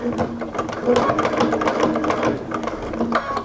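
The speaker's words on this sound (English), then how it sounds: "I'm going to go ahead and start stitching across the top." A home sewing machine stitches across the top of an oven mitt sewn from a towel, its steady mechanical whirring running continuously and close, with brief pauses in rhythm as the fabric is turned.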